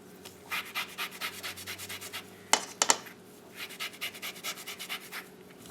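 A whole orange is zested on a grater in a kitchen while making citrus crumble cookies, giving close, rhythmic rasping strokes in two bursts, broken by a few sharp knocks in between.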